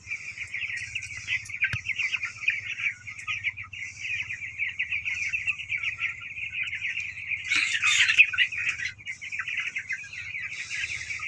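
Many chickens in a poultry shed with dusty bran litter, a steady dense chorus of chirps and clucks close by, rising to a louder burst around the middle, over a low continuous hum.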